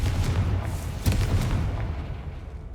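A Confringo fire spell from Hogwarts Legacy bursts in a single booming explosion about a second in, then fades into a rumbling tail with scattered crackles.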